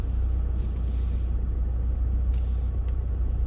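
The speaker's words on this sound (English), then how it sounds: "I'm then going to move the car slightly and feed the steering into full lock." Low, steady engine rumble from a car creeping forward slowly while bay parking, with a few brief hissing bursts over the drone.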